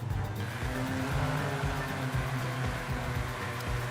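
Tiny Autozam AZ1 Japanese kei car in Forza Horizon 5, a small engine droning with a steady low buzz and shifting pitch, continuous and fairly close with no talk.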